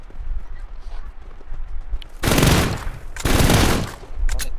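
Gunfire in PUBG Mobile on a zipline parkour map: two loud sustained bursts of rapid automatic fire, each about a second long, then a shorter burst, with quieter ambient game noise between them.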